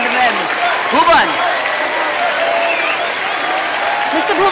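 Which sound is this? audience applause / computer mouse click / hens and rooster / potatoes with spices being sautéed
audience applause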